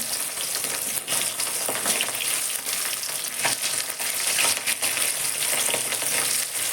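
Vetki fish pieces fry in hot oil with a steady, loud, dense sizzle that continues evenly throughout, crackling close to the microphone, with no one speaking.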